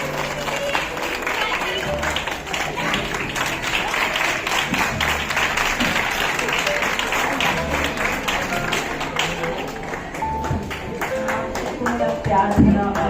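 Audience applause welcoming the head of a yoga group at an activity room inauguration, a sustained burst of many hands clapping at steady volume across the whole stretch, swelling slightly near the end.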